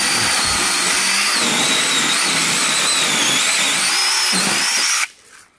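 A Troozy 6-inch electric chainsaw cuts through a dead cherry tree lying across a trail, giving a loud, steady whining buzz for about five seconds before stopping abruptly.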